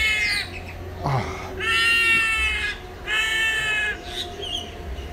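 Harsh, nasal honking calls from hornbills ring out in several drawn-out bursts, fairly close and loud over a low background rumble at a bird park.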